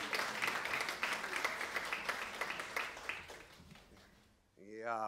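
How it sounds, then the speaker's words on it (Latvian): An audience at a forestry debut award ceremony applauds last year's award winner with a dense, steady round of clapping that fades out. A voice starts talking right after. "Aplausus tai dāmai par pagājušo gadu."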